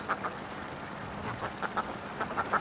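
Several quacks from ducks come in short bursts, close together, on a calm day with gusty wind, with a quiet outdoor background and some gaps between calls.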